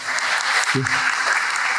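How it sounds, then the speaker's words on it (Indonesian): Seminar audience in Central Java applauds together, a continuous dense clapping that holds steady throughout, with a short low voice or tone cutting in briefly near the middle. "Tepuk tangan untuk kita semua"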